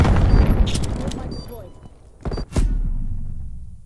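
A frag grenade goes off in a Call of Duty Cold War multiplayer match, a heavy booming blast with a low rumbling tail. Sharp gunfire cracks and game voices come around it.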